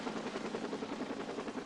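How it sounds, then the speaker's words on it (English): A medical helicopter arrives at a Texas pool rescue, its steady rotor chop thrumming at moderate loudness throughout without pause, with no one talking. "the medical chopper arrived to transport her to the hospital"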